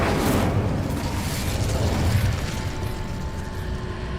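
A fiery Confringo or Incendio spell blast in Hogwarts Legacy, a loud, roaring burst of crackling fire that swells and then tapers into a steady whooshing rumble, close and continuous without any voice.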